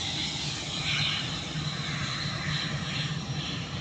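Close view of an AirAsia passenger plane taking off, its engines giving a steady, loud broadband roar with a low rumble that holds throughout and stays strong.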